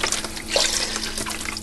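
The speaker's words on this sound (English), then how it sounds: "here we're going to put in our vegetable stock." Two quarts of vegetable stock poured into a pot of minestrone soup, a steady close splashing liquid stream running throughout with no talking.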